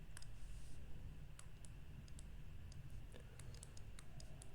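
Scattered sharp ticks and clicks, like a pen or marker tapping and scratching while an equation is written out, close and fairly quiet over a steady hiss, with no talking.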